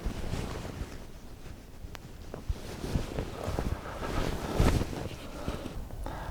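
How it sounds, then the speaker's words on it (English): Breezy outdoor wind buffets the microphone in steady gusty roars and rumbles, with occasional flapping knocks from a tent-like hide pegged down in the field, continuous and close throughout. "it's a little bit breezy today"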